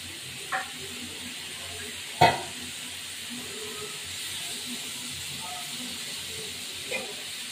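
Spices, turmeric powder and whole chillies for a rui fish curry frying in oil, a faint continuous sizzle broken by a few sharp clicks of a utensil, one louder knock partway through, no speech.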